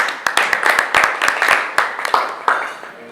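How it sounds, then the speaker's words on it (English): Applause at a corporate financial event, welcoming the CEO to the stage: a short burst of many hands clapping in an irregular patter, fairly close and loud, fading toward the end with some voices underneath. "A round of applause"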